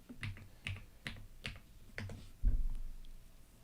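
Someone types on a computer keyboard in short, separate bursts of clicks about half a second apart, ending in a heavier thump, close by and fairly quiet.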